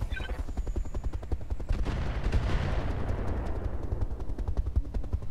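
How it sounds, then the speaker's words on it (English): Rapid weapons fire pounds a target in the mech combat game Roguetech, a dense string of gunshot-like bursts and booms repeating steadily throughout, loud and continuous with no voices over it. "Firing on target."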